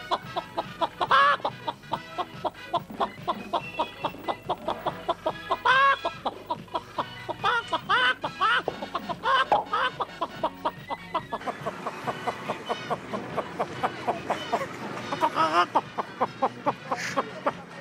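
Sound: man imitating a chicken clucking

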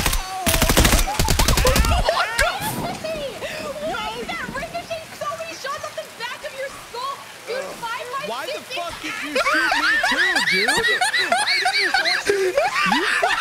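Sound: gunfire in a video game

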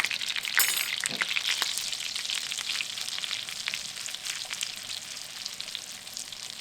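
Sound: spices frying in melted butter

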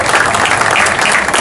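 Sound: applause from the invited guests

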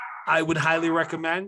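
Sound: dog barking

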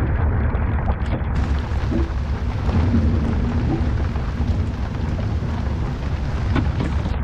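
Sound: thunderstorm with thunder and rain

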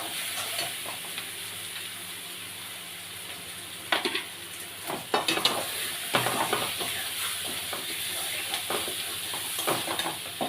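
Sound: potatoes frying and being stirred in spiced masala

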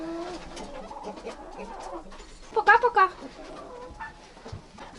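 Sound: Cochin chickens clucking

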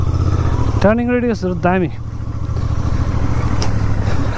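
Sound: Royal Enfield Interceptor Bear 650 motorcycle riding

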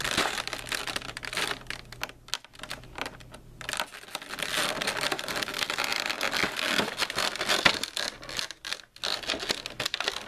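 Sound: peeling packing tape off a Funko Pop box

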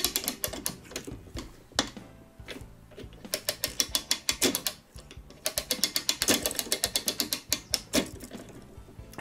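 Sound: winding the spring of a Korean 31-day wall clock

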